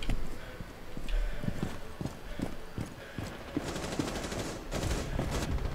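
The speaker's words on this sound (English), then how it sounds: "Ooh, I hear gunshots." Gunfire in the Rainbow Six Siege shooter game, a series of sharp, muffled shots at irregular intervals that sound some distance away, over a low background rumble.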